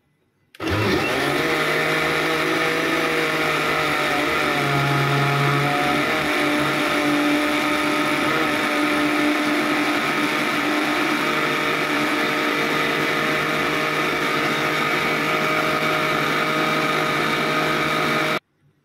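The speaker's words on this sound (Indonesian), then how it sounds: "Kita blender kembali ya." A kitchen blender runs steadily and loudly for about eighteen seconds, whirring through pumpkin batter mixed with salt, vanilla and tapioca flour for onggol-onggol, starting abruptly and cutting off cleanly with no voices over it.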